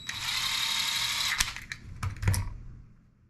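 A power tool bolts a part down with a steady, close whir lasting a couple of seconds, broken by a few sharp clicks and knocks before it winds down.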